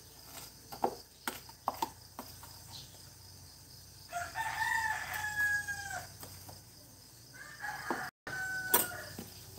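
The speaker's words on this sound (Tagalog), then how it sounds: "Mga huni ng langgam." A rooster crows outdoors in the morning among other bird calls, with a couple of drawn-out crows standing out over scattered chirps and knocks at moderate distance.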